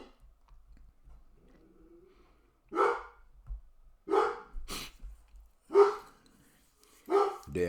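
A dog barks several times at uneven intervals, fairly close, with short gaps of quiet between the loud, sharp barks.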